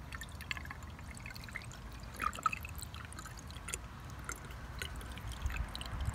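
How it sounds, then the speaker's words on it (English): Coolant flush of distilled water and vinegar poured straight into the radiator of a 2001 Triumph Sprint RS 955i motorcycle, a faint steady trickle with a few soft splashes and clinks, no talking. "But I'm just gonna pour it directly."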